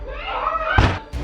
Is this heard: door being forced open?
yes